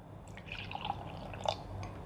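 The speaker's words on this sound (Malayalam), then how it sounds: "അത് കുറച്ചെടുത്ത് ഗ്ലാസ്സിൽ ഒഴിക്കുക" Pomegranate juice trickles into a glass in a short, quiet pour with a few soft drips and splashes, close by and alone, no talk.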